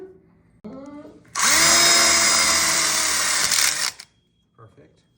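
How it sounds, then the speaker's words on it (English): A power drill drives a screw into a grill tube for an outdoor kitchen, one loud sustained whine lasting a few seconds, with brief talk and small clicks before and after. "we'll go ahead and screw that in"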